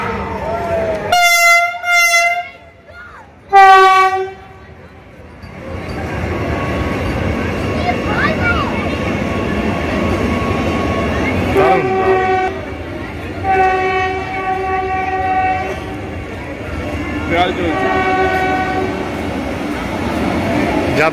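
A Vande Bharat Express on a slow trial run sounds two loud horn blasts near a station, then rumbles past with further shorter horn calls while a voice talks over it.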